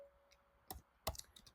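A few faint, scattered keystrokes tap on a computer keyboard in a quiet room, with single clicks and a short cluster spaced irregularly.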